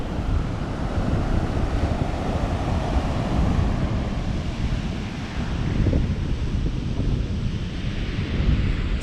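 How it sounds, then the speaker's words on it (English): Ocean waves break on a Big Sur beach, a steady loud roar of surf and wind noise that swells and eases across the whole stretch, with no voices. "This beach has some pretty sweet waves."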